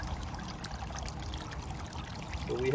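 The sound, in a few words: water trickling from a rebuilt fountain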